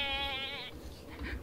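Goats bleat in Don't Starve Together, a quavering harmonic bleat up front for about half a second followed by a softer second call, over low background noise.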